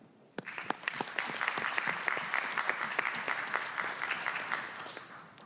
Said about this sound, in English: Please join me in giving a round of applause in this long overdue honor.